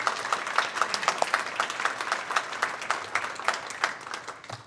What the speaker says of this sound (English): another round of applause for all of our sponsors